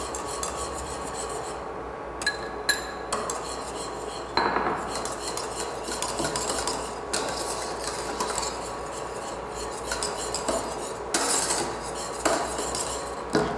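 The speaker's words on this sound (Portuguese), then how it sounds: "e vou misturar" A utensil stirs a thickened cream mixture with added boxed cream in a pan, giving continuous close scraping and clinking against the metal, with no talking.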